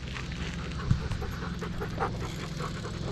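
A husky pants softly nearby on a walk, quick breaths over a low steady rumble, with a brief thump and faint whimpering sounds mixed in.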